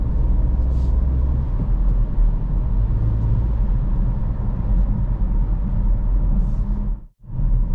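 A manual car engine runs on the road through gear changes from third up to fourth, a steady loud rumble with small shifts in pitch and a sharp brief dip near the end as the clutch is worked.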